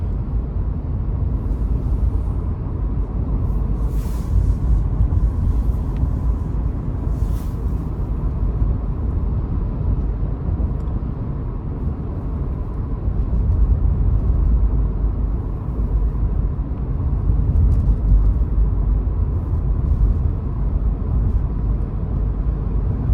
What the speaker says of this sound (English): I'm hearing the wind through the vehicle, but it's not intrusive at all.